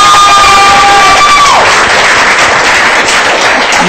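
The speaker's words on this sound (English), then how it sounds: "I was going to say that should be the biggest round of applause" A talk-show studio audience claps and cheers loudly, a dense roar of applause that follows a fading musical tone and carries on evenly to the end.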